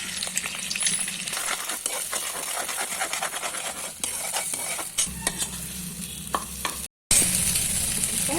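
Beaten eggs seasoned with turmeric powder and salt fry in a pan with steady sizzling and frequent stirring scrapes and clinks, close and fairly loud, with a brief dropout near the end.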